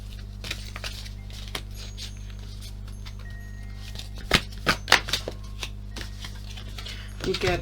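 Mantra cards riffled and shuffled by hand, a few quick papery bursts up close and loudest toward the end, over a steady low electrical hum and occasional speech.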